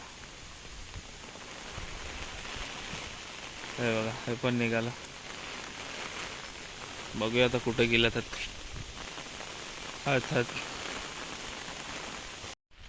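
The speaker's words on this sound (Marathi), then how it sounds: "पाऊस भरपूर वाढला आहे वारा वगैरे" Steady rain hisses throughout, loud and even, while someone speaks in short phrases over it.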